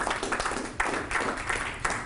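An audience claps at a Gap announcement of a $140M distribution center after a judge introduces a company executive, giving a brief, steady patter of moderate applause.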